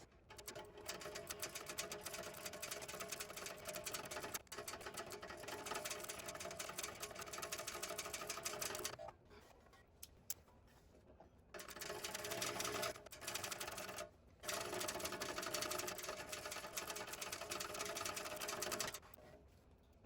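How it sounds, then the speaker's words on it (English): A sewing machine topstitching a fabric tote bag at a long stitch length runs in steady, fast bursts, with a few short pauses between runs. It stays close and mechanical, with no talking. "So I'm top stitching, so I'm going to use my 5 stitch length."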